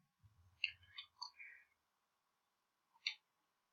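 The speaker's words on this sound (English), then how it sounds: "Sorry if you can hear like my keyboard;" Quiet, scattered clicks from a computer keyboard sound close by during gameplay, with a short cluster of taps, a pause, then one more click, alongside faint murmured speech.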